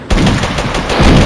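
Rapid gunfire from the Mini Militia video game rattles in a dense, loud, continuous burst for just over a second.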